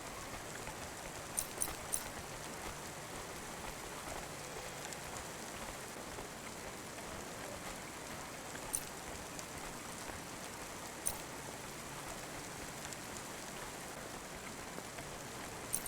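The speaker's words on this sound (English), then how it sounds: "Don't let all the rain get you down." Steady rain falls in the video game Cloudpunk, a soft even hiss of drops on surfaces throughout, with occasional faint ticks and no voices.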